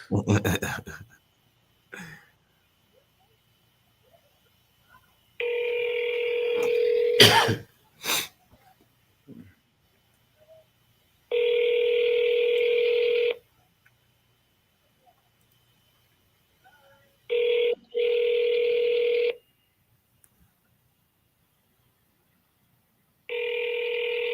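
Outgoing phone call ringing out: repeated steady electronic ringback bursts of about two seconds separated by pauses, with brief handling clicks and a breath between rings, fairly close and clear.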